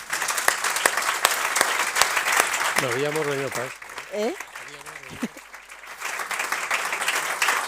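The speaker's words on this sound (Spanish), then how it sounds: "Por eso os van a dar un aplauso." Audience applause at the close of a press club panel on entrepreneurship and employment, a continuous clapping bed under a man's brief spoken remark in the middle.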